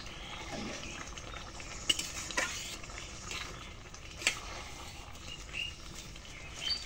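Fish heads and Malabar spinach stirred in a frying pan while cooking silver carp, soft scraping and sizzling with scattered clinks of the utensil against the pan, fairly quiet.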